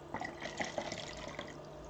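A bicarb soda and water solution is tipped back into its container, producing a short burst of splashing and dripping liquid, close and moderately loud, heard alone.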